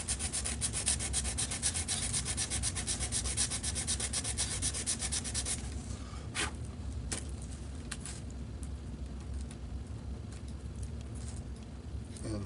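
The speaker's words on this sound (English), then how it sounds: "I'm just going to sand a little more off of that" Sandpaper rubbing a wooden corner of a model glider wing in fast, steady strokes, close up, then slower scraping and a few light knocks.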